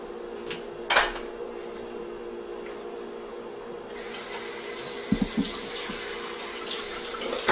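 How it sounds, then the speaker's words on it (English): Tap water starts running into a kitchen sink to soak greasy pans after frying sausage, a steady broadband rush that begins partway through with a few small clanks and knocks near the end. "you're going to want to immediately get those pans into the sink"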